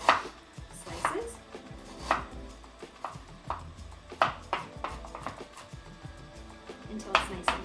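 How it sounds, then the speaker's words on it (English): A knife slicing peeled ginger on a cutting board, producing steady, crisp chopping knocks at a brisk, slightly uneven rhythm, close and clear, with light clatter between strokes. "So now I'm going to just begin to cut this into nice slices."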